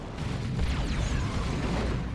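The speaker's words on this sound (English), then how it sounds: "Decent plasma cannon shot there." A plasma cannon fires in the Warhammer 40,000 strategy game Dawn of War 2, Space Marines against Orks, giving a heavy, rumbling blast with a sweeping whoosh that fades over about two seconds amid steady battle noise.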